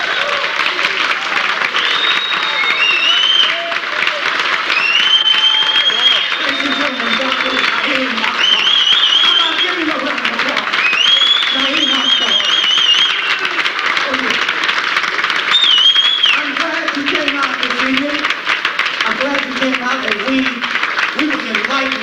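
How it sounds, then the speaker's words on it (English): Sustained audience applause following a university lecture fills the hall, steady dense clapping with crowd murmur and a few whoops, staying loud throughout. "How about giving him another round of applause?"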